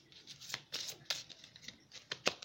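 Oracle cards are shuffled and drawn, making quick, close papery flicks and riffles in short bursts a fraction of a second apart.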